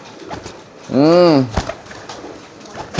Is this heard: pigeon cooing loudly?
yes